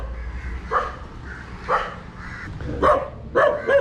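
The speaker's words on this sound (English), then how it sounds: "It ran away to bark at me from the shadows." A dog barks several times at a moderate distance, short yapping barks in uneven bursts over low outdoor rumble.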